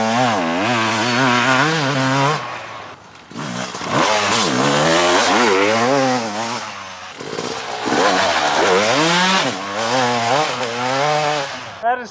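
A Yamaha YZ250X two-stroke dirt bike rides laps, its engine wailing and rising and falling in pitch as it revs through gear changes, loud and continuous with a few short dips between bursts of throttle.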